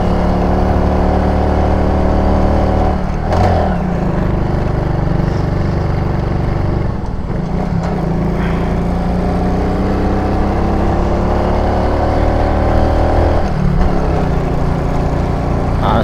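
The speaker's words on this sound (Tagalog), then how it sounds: "Iyak yung makina dito." Vehicle engine labouring steadily uphill on a mountain road, a continuous loud low drone with shifting pitch and a few surges, close and sustained throughout with no talk.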